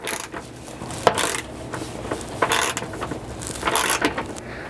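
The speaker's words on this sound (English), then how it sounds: "holding the wrench steady, we can start turning the bolt and start compressing that rivet nut" Wrench turning a bolt to compress a rivet nut while installing a modular drawer system floor in a third-generation Toyota 4Runner, giving short metallic clicks and ratcheting mechanism sounds in a steady, close series.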